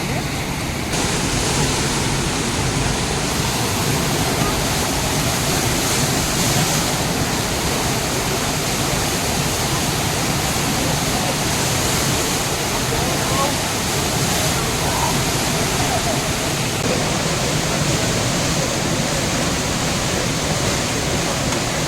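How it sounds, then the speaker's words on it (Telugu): Loud, continuous rush of the Isar River in Germany, roaring steadily and close by at a river surfing spot, a dense unbroken wash of sound with no other noises standing out. "ఆ వాటర్ సౌండ్తో పాటుగా చూస్తేనే ఎంజాయ్ చేయగలం"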